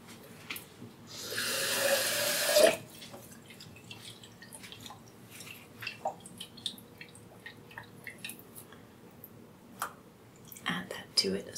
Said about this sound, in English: I'm going to put some water in it to rinse out the can.